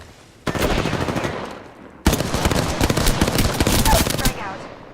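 Automatic gunfire aimed at the player in the battle royale shooter Apex Legends, two long, loud bursts of rapid shots close by, separated by a brief pause.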